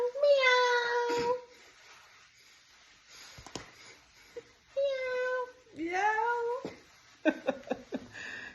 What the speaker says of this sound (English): Kitty cat says meow.